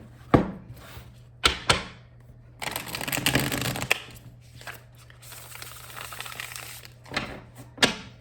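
A deck of tarot cards being shuffled up close: sharp snaps and short riffling bursts, with a couple of longer riffles between quick taps, against a low hum.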